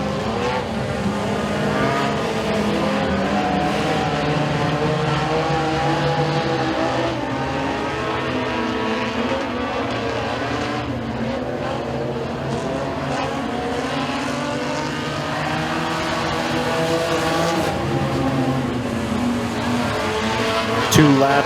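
Several race cars roar around the Eriez Speedway dirt oval during a heat race, a dense, continuous engine drone with shifting pitches as cars pass. An announcer talks over it throughout.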